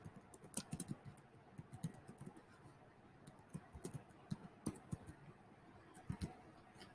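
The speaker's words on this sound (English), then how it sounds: "so I'm going to type my name again" Quick, light keystrokes on a computer keyboard come in irregular bursts as a name is typed, close and fairly quiet against a hushed room.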